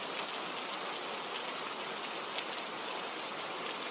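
Rain falls on a lonely road at night, a continuous soft hiss of drops spread evenly throughout, moderately loud and unbroken, with no speech or other sounds.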